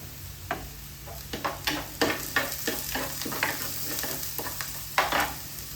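Fish frying in a pan with curry leaves, giving a steady close sizzle broken by repeated stirring scrapes and crackling bursts throughout, with no voices.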